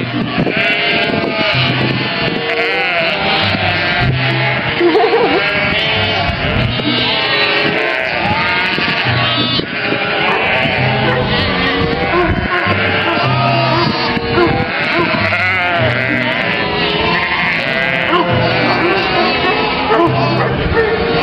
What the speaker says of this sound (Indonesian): Yang kedua ada kambing.